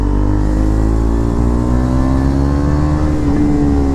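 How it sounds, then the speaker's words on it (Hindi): A KTM Duke 390 BS6 motorcycle fitted with a loud aftermarket exhaust revs hard and steadily, its deep engine drone rising in pitch near the end, close and loud with no talking. "देखेंगे बाइक को कितनी लाउड हो सकती है"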